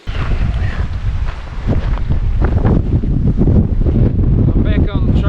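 Strong, gusting wind on a hiking trail of New Zealand's Te Araroa, roaring loudly and buffeting the microphone in heavy continuous blasts, with some speech underneath.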